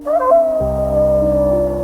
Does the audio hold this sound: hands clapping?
no